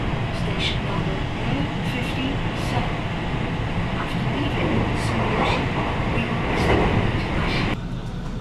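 Riding aboard the Japanese Thunderbird express train on a quiet Saturday morning toward Osaka, a constant rumbling drone of wheels on rails fills the carriage, with faint rhythmic clicks over track joints and occasional muffled voices.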